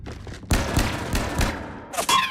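Gunfire rings out in the Mass Effect 3 Grissom Academy battle, a burst of rapid shots with sharp cracks and some thuds, close and loud with a brief voice near the end.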